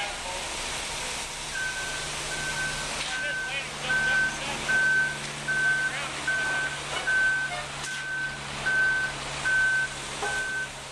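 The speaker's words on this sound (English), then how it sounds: "And then we pour the concrete via a concrete pump truck in the middle here." A steady run of high reversing beeps from a concrete pump truck repeats at an even pace over the low rumble of its heavy engine, with faint voices in the background.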